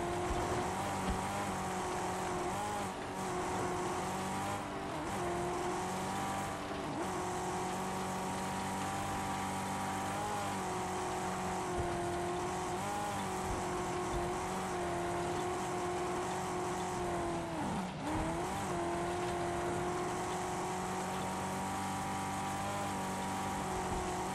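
A car engine drones steadily in the video game Mad Max while driving, a loud continuous whine with slight pitch shifts and one brief dip, sustained at close range throughout.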